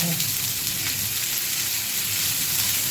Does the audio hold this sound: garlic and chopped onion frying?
yes